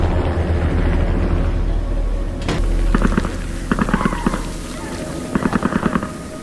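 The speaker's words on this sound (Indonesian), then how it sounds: "Ya, terdengar suara tembakan." Bursts of rapid gunfire crackle in short volleys after a sharp crack, with a rumbling background like a helicopter.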